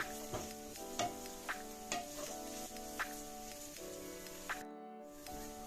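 Finely chopped vegetables fry in a pan with a soft steady sizzle while a utensil stirs and scrapes in regular strokes, close and fairly quiet, with a brief cut near the end.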